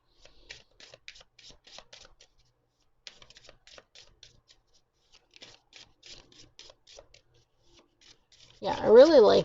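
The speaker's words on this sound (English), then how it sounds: "Now, in terms of the shuffling capabilities of this small deck, it shuffles absolutely amazing." A small pocket-edition Light Seer's Tarot deck being shuffled gives soft, intermittent papery riffles and taps, quiet and close, before a voice speaks at the end.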